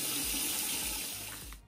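Tap water runs steadily while a bar of Brilliant Hard soap base is lathered, a close, full rushing stream that cuts off abruptly at the end.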